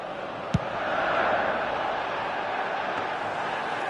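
Broad crowd applause and murmur from a football video game stadium, steady and diffuse throughout with one brief sharp thump near the start, no clear voices on top.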